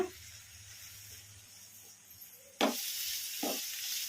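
Grated radish stir-frying in a pan: a low sizzle that jumps to a louder, broad hiss as the shreds are tossed, with a second burst about a second later, no voices.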